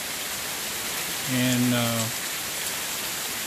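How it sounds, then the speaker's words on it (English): Very heavy rain pours down steadily as a broad, constant wash of noise, with someone briefly speaking over it partway through. "it's raining very hard rain"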